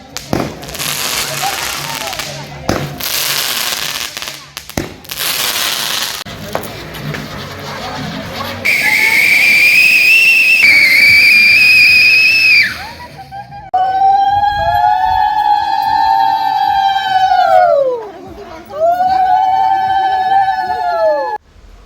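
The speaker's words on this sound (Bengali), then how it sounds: "আমরা এলা বম ফুটাবো" Firecrackers go off outdoors at a wedding near a temple, with sharp loud bangs and crackles early on, followed by rising and falling whistling, siren-like tones.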